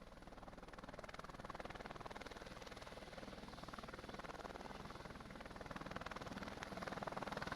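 Helicopter in the video game Night Raider, a steady rapid rotor chop with engine drone that stays constant and fairly close for several seconds, with no talking.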